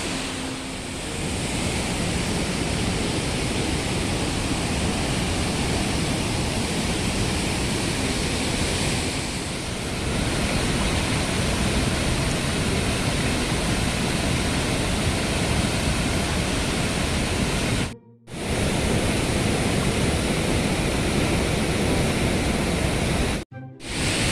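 Estrella Falls in Narra, Palawan pours in a constant loud roar of rushing water, a dense steady wash that persists without speech apart from two brief dropouts.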